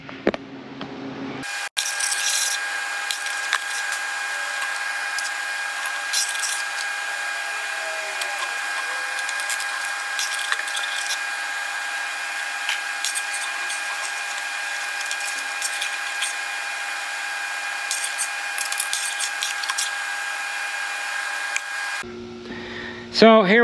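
An angle grinder grinds down a welded metal patch, a steady loud high-pitched whine with abrasive scraping that runs continuously for about twenty seconds before cutting off.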